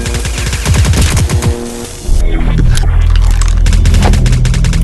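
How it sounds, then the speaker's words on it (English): Enemies teleport into an Interstellar Strike Team VR battle: loud booming, crackling bursts like a fusillade, followed by a heavy sustained rumble of combat noise. "here's the noise when they're teleporting in"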